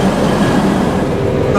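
A passenger train on the Cononley to Leeds line rumbles steadily from on board, a loud continuous rolling noise inside the carriage with a faint hint of wheels on track.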